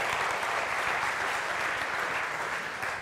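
A conference audience applauds steadily for a few seconds, a dense wash of clapping that fades slightly at the end.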